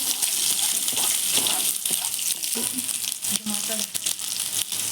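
Spices and chopped onions sizzle and crackle in hot oil: mustard seeds, cumin, two dried red chillies and curry leaves, frying for a village-style brinjal and tomato chutney. The hiss is steady and close, with brief scraping in places.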